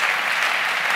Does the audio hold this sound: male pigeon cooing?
no